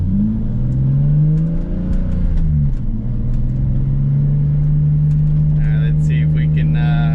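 Naturally aspirated car engine pulling up through the revs, a steady mid-pitched drone with rising tone early on, loud and close, with a brief lull before settling into a sustained hum.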